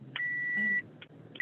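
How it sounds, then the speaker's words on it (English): Electronic beeping from an unknown device during a remote council session: one long steady tone, then a short blip and another tone starting, fairly clear over low background hum. "I hear beeping."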